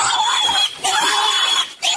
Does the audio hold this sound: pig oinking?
yes